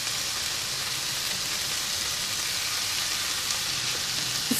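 Spinach sautéing with onions in a pan, a steady bright sizzle and hiss continuing evenly throughout, close and moderately loud with no voices.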